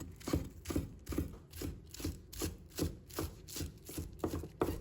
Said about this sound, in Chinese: 再准备1把小葱，把它切成小粒